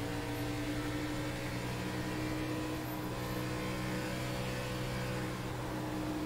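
Race car engine in an iRacing NASCAR Xfinity sim at Darlington, a steady droning hum with sustained tonal bands, held at an even, moderate level without clear revving peaks.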